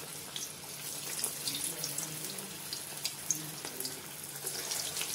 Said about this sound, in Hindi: ऑयल गर्म हो गया है और इनमें हम एक एक करके छोड़ेंगे